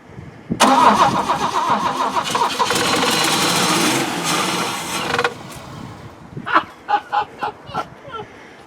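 A 1973 Mk1 Ford Capri engine cranks on a cold start and catches, running roughly for several seconds before cutting out, followed by a few short cranking bursts. No voices.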